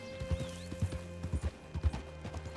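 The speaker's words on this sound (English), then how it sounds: "Hitch your horse up here." Horse hooves clip-clop in Red Dead Redemption 2 as a horse walks in an uneven, moderately close rhythm of soft thuds, with faint game ambience and a low steady hum beneath.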